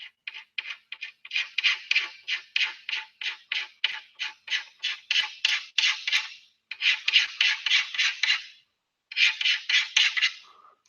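Hand file rasping the edge of window tint film on a 2018 Camry, a long run of quick, even strokes that breaks into three bursts with short pauses between them. The strokes are close and crisp, and no voice is heard.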